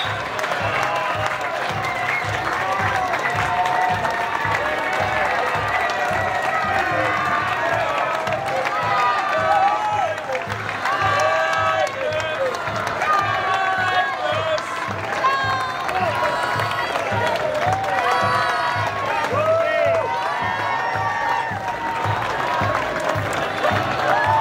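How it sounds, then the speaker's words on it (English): Rugby fans in a packed stadium roar through a continuous, loud Tigers chant as the Leicester players walk out for a Premiership Rugby Cup match, voices blending into a sustained, dense crowd wall with claps and cheers mixed in. "the Tigers chant as you walk in is brilliant"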